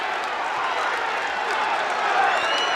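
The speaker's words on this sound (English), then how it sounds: "And listen to this pro-Tiberi crowd" A large pro-Tiberi boxing crowd roars and cheers steadily at an arena fight, a dense, continuous wash of voices throughout.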